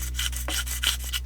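A rough rasping rub from a handheld nail file scraping back and forth in several short strokes over a 3D-printed couch model, close up, with a steady low hum underneath.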